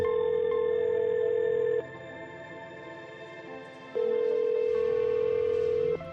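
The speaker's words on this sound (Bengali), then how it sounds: "আরে ফোন উঠাচ্ছে না।" A phone ringback tone sounds in two long steady bursts separated by a pause, with faint background noise between and no answer.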